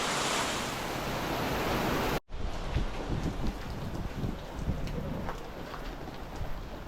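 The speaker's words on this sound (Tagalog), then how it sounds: "Malakas yung ulan" A dense, steady roar of heavy rain in Urdaneta fills the scene, with a brief cut partway through, then continuous downpour with scattered patters.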